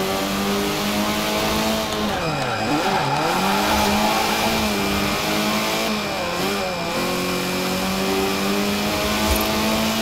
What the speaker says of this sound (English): Now, floor it right down the Royal Mile.